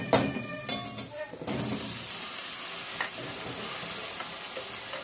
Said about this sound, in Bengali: পেঁয়াজটাও খুব মিহি কাট, সেই জন্য পেঁয়াজটাও খুব বেশিক্ষণ নাড়াচাড়া করার দরকার নেই